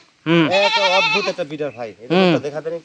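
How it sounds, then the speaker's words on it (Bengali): Breeding buck goats on a farm let out loud, close, wavering bleats, one long call followed by shorter ones and a second strong bleat. "এই ছাগলগুলো আপনারা খামারে একটা রাখবেন এর মাধ্যমে অনেক ভালো বাচ্চা পাবেন"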